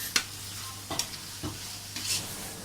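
Mint and coriander leaves stirred into hot oil in a cooker for chicken biryani, giving a soft continuous sizzle broken by a few scraping stirs of a spoon against the pot, with no talk.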